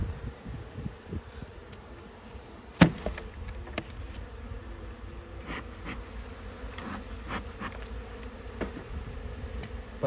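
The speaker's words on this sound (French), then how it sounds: "mais parce qu'à l'intérieur, ici, là, j'ai des abeilles" Honey bees from New Zealand hum steadily while being installed in hives, a continuous close buzzing drone broken by a few sharp knocks and handling clicks, with no talk.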